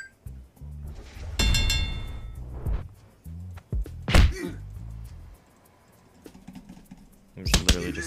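Fist-fight punches in the video game Hobo Sim: a handful of dull thumps and slaps scattered irregularly, with bursts of clinks and game noise between them, fairly close and moderately loud.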